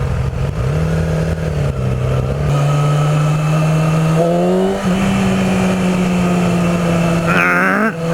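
A 2014 Yamaha R6 inline-four engine hums at a steady pitch, then rises and falls through several revs, climbing sharply near the end, loud and close.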